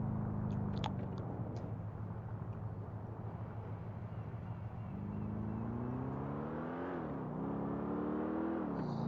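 A New York taxi in GTA 4 drives with a steady engine drone that climbs in pitch as it accelerates late in the clip, plus some road and wind rush.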